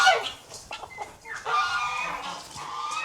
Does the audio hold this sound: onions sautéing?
no